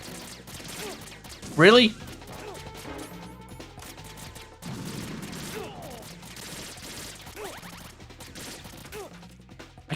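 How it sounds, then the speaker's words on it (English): Gunfire in the video game Metal Gear, a busy stream of muffled shots and impacts under ongoing game noise, with a short spoken exclamation early on and a louder crash-like burst near the start. "Stop shooting me."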